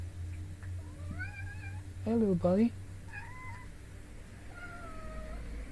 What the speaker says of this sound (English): I did hear a cat.